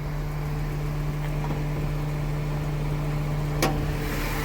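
A JDM car engine idles steadily in Osaka, Japan, with a constant low hum and an even drone close by and no talk over it.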